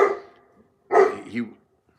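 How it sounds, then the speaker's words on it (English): A nearby dog gives two short barks. The first fades quickly, and the second is sharper and louder with a brief yipping tail. "Someone's going to start saying about how my dog is making their dogs bark."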